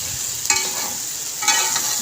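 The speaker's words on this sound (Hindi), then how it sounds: "फ्राई की हुई भिंडी इसमें डाल देंगे और चम्मच के साथ इसको अच्छी तरह मिक्स कर लेंगे" A spoon stirs fried okra into a sizzling besan masala tadka. Two distinct scraping strokes sound about a second apart over a continuous close-up frying hiss, with no talking.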